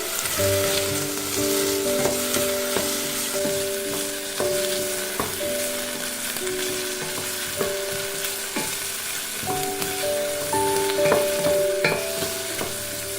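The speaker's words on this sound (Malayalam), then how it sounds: "പതുക്കെ വഴണ്ടി വരുന്നുണ്ട് സവാള" Sliced onion sautés in a tablespoon of sunflower oil, a steady close sizzle broken by repeated scraping stirs of the spoon against the pan, with no speech.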